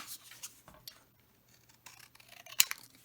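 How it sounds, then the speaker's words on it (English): Scissors snip through a small paint chip, faint close crisp shearing clicks scattered between quiet pauses, with one sharper snap near the end. "what I'm going to do is cut that even in half again"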